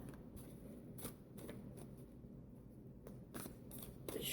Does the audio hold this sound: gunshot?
no